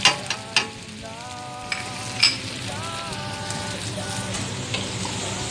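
Browning onions crackle and hiss in a pan, a steady close sizzle with occasional light clinks of a utensil against metal; a faint tonal hum runs beneath, and no one speaks.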